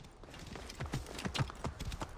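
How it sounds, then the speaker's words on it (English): A horse's hooves clip-clop in a steady, moderately close rhythm in Assassin's Creed Origins, under faint game ambience. "Come to me, horse."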